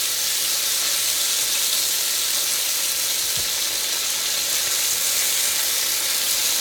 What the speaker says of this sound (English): I want a good little brown sear on these.